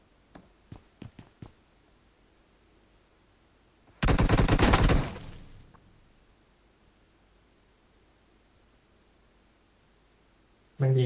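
Gunfire in a Thai online battle-royale video game session: a few quick distant shots, then a loud burst of rapid automatic fire lasting about a second that fades out, with another burst starting at the end and no talking.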